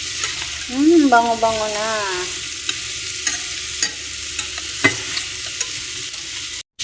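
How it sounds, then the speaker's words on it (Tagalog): Cauliflower sautéing in a pan, a steady close sizzle with occasional stirring scrapes under a brief voice at the start. "Gigisahin ko muna itong aking cauliflower."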